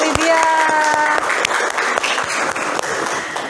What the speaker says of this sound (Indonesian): Beri tepuk tangan untuk Lydia